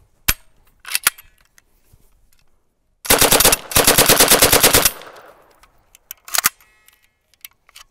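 Sten submachine gun firing two sustained bursts of rapid automatic fire, about two seconds each, after a few scattered single clicks and clacks of handling, with sharp metallic action noises trailing off afterward.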